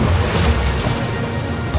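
Strong sea waves rolling around a small boat at Manta Point off Bali, a loud continuous rush of water and wind with low swells sloshing close by, no talk.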